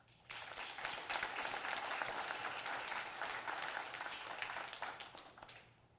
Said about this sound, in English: but just another round of applause for them, please.